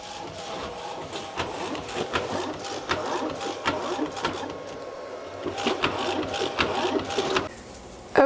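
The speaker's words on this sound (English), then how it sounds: "Now I'm ready to print a test strip and see what happens" A Procolored K13 Lite DTF printer printing a test strip makes close mechanical whirring with repeated clicking and ratcheting as the print head shuttles back and forth, pausing briefly midway before resuming.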